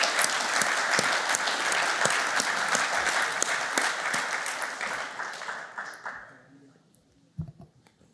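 Sustained applause from an audience at an anniversary evening event for a children's charity foundation, dense and loud at first, then gradually fading out over several seconds, with a few scattered sounds at the end.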